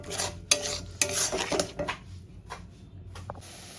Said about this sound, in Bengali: টমেটো পিউরিকটা দিয়ে দিই এটা দিয়েও আমি খুব ভালো করে কষাতে থাকবো